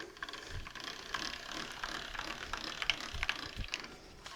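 A pasta machine's thickness setting being clicked from notch to notch while fresh dough for ricotta tortelli is rolled thin, giving a run of light ratchety clicks close by against a steady mechanical whir.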